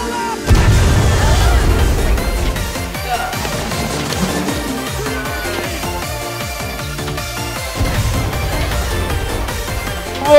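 Grenade blast in the war game Foxhole, a deep booming burst near the start followed by sustained rumbling battle noise and scattered bangs, with another heavy thump later, over a dense, continuous din.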